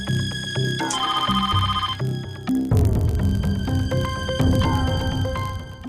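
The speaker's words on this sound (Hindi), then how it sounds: "इतनी सुबह सुबह किसका फोन आ गया?" An electronic phone ringtone sounds loudly and without pause in an early-morning household, a bright looping melody that shifts pattern partway through, with no voices over it.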